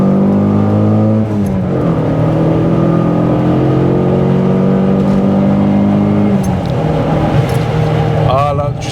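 A Fiat Coupé 16-valve turbo engine, a Stage 2 tuned T16, revs loudly and steadily with a dense rising and falling tone throughout, briefly dipping midway before climbing again.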